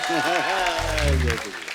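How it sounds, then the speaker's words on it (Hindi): A studio audience on a comedy talk show applauds for the poet Ashok Chakradhar, a loud clapping wash running under a voice that speaks over it throughout. "अशोक चक्रधर जी के लिए और जोरदार ताली हो जाए"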